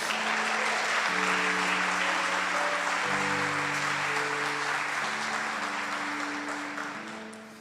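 Church congregation applauding, a steady wash of clapping sustained for several seconds over held organ or keyboard chords, slowly fading at the end.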